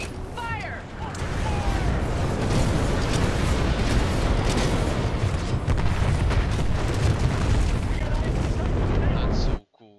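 Grenade launcher fire and explosions in the Titanfall 2 campaign, a dense continuous roar of blasts and rumbling booms layered with battle noise, loud throughout before cutting off abruptly near the end.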